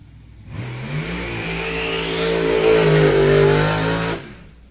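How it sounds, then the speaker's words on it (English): A rear-engine dragster does a smoky burnout at a dragstrip in Mattoon, Illinois, its engine roaring loud and close as the revs climb and hold steady for several seconds before cutting off abruptly. "The stout smoky burnout there for the rear engine dragster from Mattoon, Illinois."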